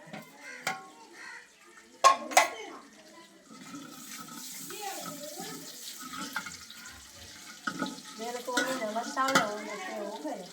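Spices fry for a tadka while a spoon stirs and scrapes the pan, with clinks, soft sizzling and wet bubbling heard up close, and voices talking in the background.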